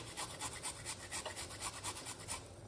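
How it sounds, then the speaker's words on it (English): Fresh unpeeled ginger is rubbed against a grater in steady, rhythmic rasping strokes, close and fairly quiet, with no talking. "And what you want to do, grate the ginger."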